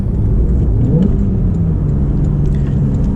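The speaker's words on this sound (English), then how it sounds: "heel toe shifting, your rev matching." A Porsche 911 991.2 engine rumbles and briefly swells in revs during a heel-toe downshift, heard close and loud from inside the car as a continuous low growl.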